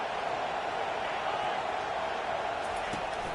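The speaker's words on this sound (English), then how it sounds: "This crowd bringing the energy and noise early." Football stadium crowd cheering forms a dense, steady roar throughout, loud and continuous with no breaks.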